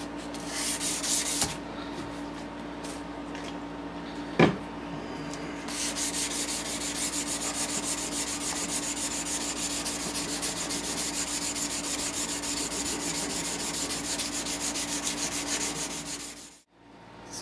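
Continuous abrasive rubbing of sandpaper on a heat-treated steel knife blade, steady and close, with a brief knock early on and an abrupt stop near the end.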